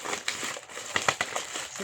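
A full plastic gift bag is rummaged and unpacked, giving close, continuous crinkling and rustling with sharper crackles now and then. No speech is heard over it.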